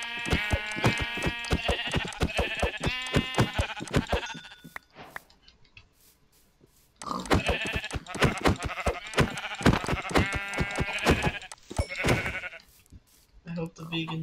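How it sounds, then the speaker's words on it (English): Several sheep bleat in Minecraft, a dense run of repeated baas in two bursts split by a short quiet gap, close and loud with clicking between calls. "there's three sheep right here"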